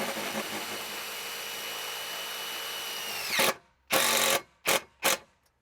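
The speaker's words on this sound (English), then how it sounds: "you want to add a self-tapping screw through the rail and into the post" A power drill drives a self-tapping screw through an aluminum stair rail into the post, whining in a long steady loud run before slowing down, followed by three short sharp bursts of the motor with silent gaps between.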